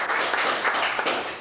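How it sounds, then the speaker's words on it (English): A game-show studio audience applauds bachelorettes arriving on stage: a steady, dense wash of clapping that holds at an even, fairly loud level for the whole moment, with no voices over it. "Applause"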